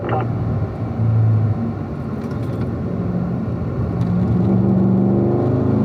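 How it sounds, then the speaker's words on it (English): Race car on a road course, Ron Fellows Springhill track in Las Vegas, engine rumbling steadily with rising pitch as the throttle opens through a corner, loud and continuous close by. "Now open up that throttle there, Kevin, then lift off."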